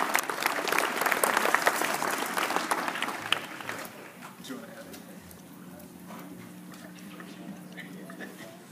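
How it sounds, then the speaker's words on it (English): Loud applause from an audience for about four seconds, then fading into quieter crowd murmur with a faint sustained tone. "Yeah, give us an applause."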